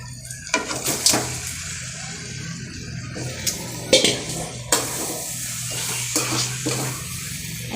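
Chicken sukka masala being stirred in a pan, a few scraping strokes of a spoon against the metal over a faint, steady sizzle, close and fairly quiet with no talking.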